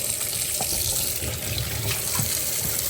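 Running tap water splashes steadily into a sink while something is washed under it, a continuous close hiss with small irregular splashes.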